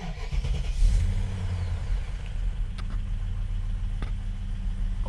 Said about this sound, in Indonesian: Oke, jadi karakter dari mesin V8 seperti itu ya. Seperti rumble-rumble gitu.